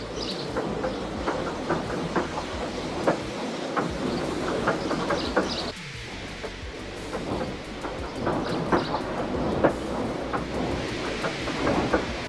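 Gordon the engine from Thomas & Friends reversing off the main line, steady rumbling chuffs and rhythmic wheel clatter throughout, close and continuous with no voices.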